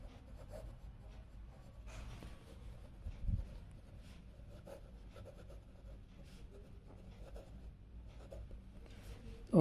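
A pen scratches across paper in short strokes and bursts while a surface-area problem is worked out during a Class 10 maths lesson, faint and close, with a soft bump partway through and no speech.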